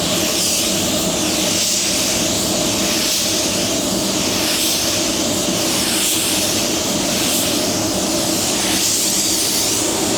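Avalon a60 spray gun blowing silver base coat, a loud continuous airy hiss that pulses slightly with each pass of the gun and carries no talk.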